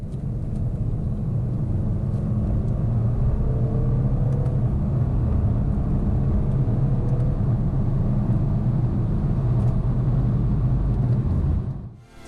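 BMW 420d Cabriolet diesel accelerating from 30 to 70, heard as a steady low engine drone and road rumble that holds throughout, then drops away abruptly at the end.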